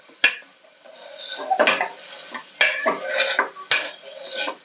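A masher works a dry bombil fish mixture in a metal pot, giving sharp clinks and scraping, squelching strokes in uneven bursts, close and clear.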